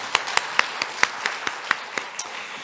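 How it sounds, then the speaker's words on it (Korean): A few hands in a church congregation clapping in an even, steady rhythm, about a dozen distinct claps, fairly sparse and moderately faint. "주님 앞에 모든 영광의 박수 올려드리겠습니다"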